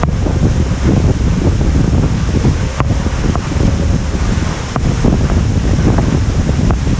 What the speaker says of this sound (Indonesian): Karena di sini anginnya begitu kencang.